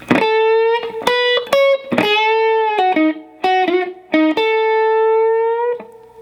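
Electric guitar plays a slow blues lick from a solo, a run of distinct, sustained single notes with bends and slides, moderately loud and alone without talk.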